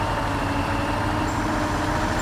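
A truck in MudRunner idles in a steady, continuous low rumble, close and even throughout, with no voices.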